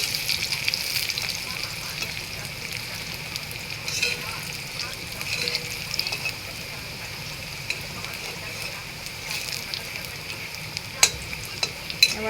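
Onions frying in a pan, a steady broad sizzle running throughout at moderate level with occasional stirring clicks and scrapes near the end.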